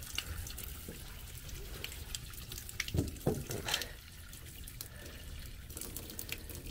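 Water draining and trickling out of a compartment in a Sherp amphibious vehicle, a steady wet splashing with a few louder sloshing bursts near the middle, heard up close with no talking.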